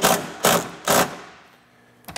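A bolt being tightened on a Putco oval truck bed rail mounting bracket, heard as three quick, close metallic ratcheting bursts followed by a fading ring.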